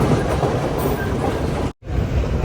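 A passenger train on the Colombo to Kandy line in Sri Lanka runs at speed, a loud, steady rumbling rattle of wheels and carriages heard from on board, briefly cut out near the end.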